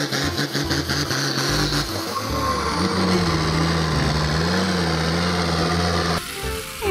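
Motorized toy tractor, green, running with a steady buzzing engine-like whir and some shifting pitch, loud and close, with no talk over it.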